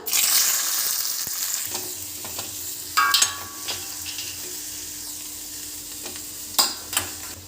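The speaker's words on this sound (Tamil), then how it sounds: "அப்புறம் வெங்காயம், பச்சை மிளகாய் போட்டு அது நல்லா வறுக்கணும்." Small onions and green chilies frying in hot coconut oil for an egg omelette base, a continuous close sizzle with occasional stirring scrapes and clinks, no voices.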